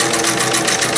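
A 1975 Singer Fashion Mate 360 sewing machine runs in a steady, close, continuous mechanical hum and whir, loud and uninterrupted.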